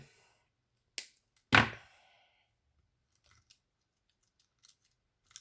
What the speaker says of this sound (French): ma tige est trop grande. On va la couper.